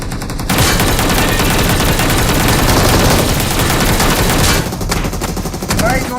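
Sustained automatic gunfire from a PUBG match, loud and dense with rapid overlapping bursts for most of the clip, easing near the end with a few scattered shots.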